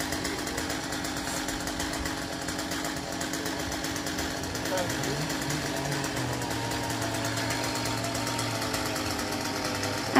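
A saw cuts through a coconut tree in the rain, its steady buzzing drone running continuously near and loud, with a pitch shift midway as the blade bites, while a person talks over it.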